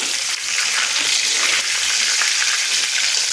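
Pabda fish fry lightly in hot oil, giving a loud, close, unbroken sizzling hiss that holds steady throughout with no talking.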